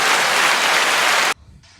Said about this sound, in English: that's a wonderful, warm applause.